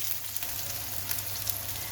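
Atlantic bonito pieces frying face-down in a pan, a steady close crackling sizzle of hot oil with small pops scattered through.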